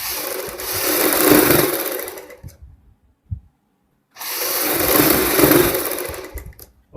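A sewing machine stitches corded piping onto a kurti in two long, fast, whirring runs separated by a quiet pause with a few soft clicks.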